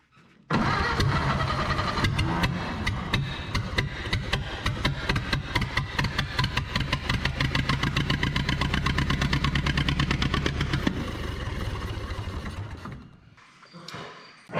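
A 1930 Ford Model A engine found abandoned on a Minnesota farm runs rough and uneven for about twelve seconds, misfiring and not hitting on all cylinders, loud and close, then cuts out near the end.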